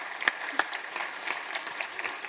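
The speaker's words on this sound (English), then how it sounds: "Let me hear a round of applause again for Emily and her fantastic introduction to" Audience applause at a tech talk and panel on exoskeletons, a moderately loud round of clapping with a few sharper claps standing out, steady throughout with no voices.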